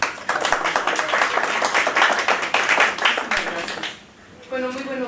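Broadband clapping fills about four seconds, with speech mixed in throughout, then fades as a voice begins talking alone.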